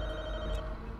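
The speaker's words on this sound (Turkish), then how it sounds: "Telefon çalıyor lan." Telephone ringing inside The Walking Dead: Michonne video game, a steady electronic ring tone holding over dense game ambience and low rumble, brief and fairly loud with no talk.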